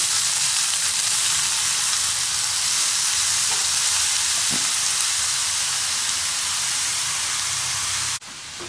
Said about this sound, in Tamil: அதே நெய்யில் துருவி வச்ச கேரட் சேர்த்துக்கலாம்.